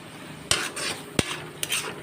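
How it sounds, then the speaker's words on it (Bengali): Spice paste being sautéed over a low flame, with a quiet background hiss broken by three sharp clinks of a utensil against the pan. "মশলাটা ভালো করে কষিয়ে নেব হালকা ফ্লেমে"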